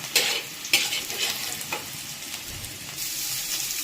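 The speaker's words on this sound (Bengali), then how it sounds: "এখানে এই যে ওলকপিটাও ভাজতে দিয়ে দিয়েছি।" Kohlrabi frying in oil with a continuous close sizzle and several sharp scraping strokes of a spatula stirring the pan, no voices.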